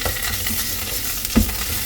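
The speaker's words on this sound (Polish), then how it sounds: "Podsmażamy, aby aromat się uwolnił," Food for Turkish İzmir köfte sizzles steadily in a hot pan with a brief stirring clatter near the end, no talking.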